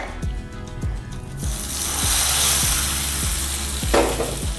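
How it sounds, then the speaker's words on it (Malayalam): Hot tempering poured into raw mango pachadi, a burst of loud sizzling hiss that swells and settles, punctuated by repeated spoon taps against the vessel. "ഇനി നമുക്കിതിലേക്ക് താളിച്ച് ഒഴിച്ചു കൊടുക്കാം"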